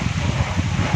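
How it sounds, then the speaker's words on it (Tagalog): Strong typhoon wind in Tacloban City buffets the microphone in low, pulsing gusts, a brief rough roar with a sharper burst near the end. "Sobrang hangin."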